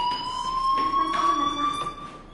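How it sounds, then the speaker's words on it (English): Fire alarm in the video game Life Is Strange, a loud, continuous electronic tone ringing steadily throughout, close and alone. "Hey, do you hear that fire alarm? That means you should be outside."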